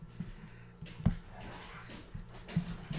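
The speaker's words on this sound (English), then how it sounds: "Oh, these dogs." Two dogs wrestling and playing indoors, giving soft whimpers and low growly grunts with a few sharper yips, close by and continuous over a muffled background.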